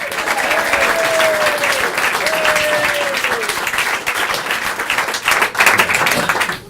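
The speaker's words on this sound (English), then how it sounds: "Will you please give a round of applause for Martin on the saxophone?" Loud, sustained applause from a pantomime audience, steady clapping filling the space with a few louder bursts near the end.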